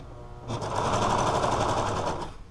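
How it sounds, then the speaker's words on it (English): A serger stitches a knit band in one fast, continuous rattling run of about two seconds. The motor is close and loud, with no voices. "line it up to the half-inch mark, and start serging"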